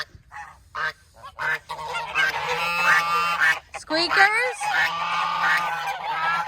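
Geese honk loudly and repeatedly at close range, harsh nasal calls overlapping in a noisy flock, with a brief spoken word near the start.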